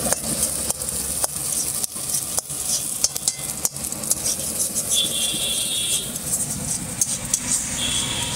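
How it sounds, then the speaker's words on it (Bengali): Tarka being stirred and fried in a pan at a roadside food shop, a steady sizzle with scraping and clattering of a ladle, some faint background bustle. "দেখতে পাচ্ছ তরকা রান্না হচ্ছে একদম"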